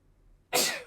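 A single sudden sneeze bursts out after a quiet moment, close and loud, then trails off.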